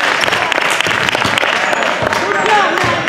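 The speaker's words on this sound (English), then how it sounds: "Clap it up, clap it up." Spectators at a youth basketball game in a gym clap and applaud, a busy burst of clapping mixed with crowd noise and voices.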